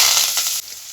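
Mustard seeds, garlic and onion hitting hot oil in a pan for tempering a tomato sambar, a sharp loud sizzle that eases off after a moment.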